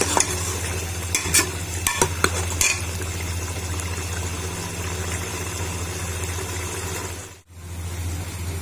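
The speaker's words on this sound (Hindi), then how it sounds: "हमने इतना भून लिया कि देखें घी अलग से हो गया" Mutton with lobia beans sautéing in ghee with ground garam masala, a close, steady sizzle with a few sharp spoon scrapes early on and a low hum underneath, no voices.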